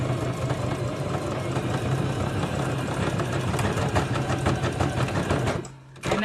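A sewing machine stitches across fabric in a steady, loud, continuous whir, close by, stopping abruptly near the end.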